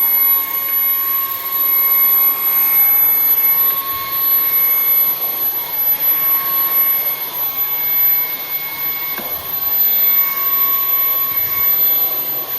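A Bissell Cleanview XR Pet 300W cordless vacuum with removable battery runs at maximum power in a sawdust-filled garage, giving a loud, steady, close whine and rush of air that holds evenly from start to finish.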